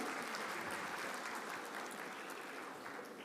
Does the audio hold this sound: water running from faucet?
no